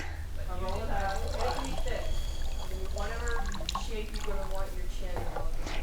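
Ceramic glaze is poured over a pottery piece, producing wet splashing and trickling liquid sounds beneath continuous talking, with fairly steady loudness throughout.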